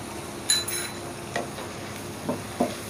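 Spoon stirring chicken with chili sauce in a pan, a few sharp metallic scrapes and clinks spaced irregularly over a faint steady sizzle.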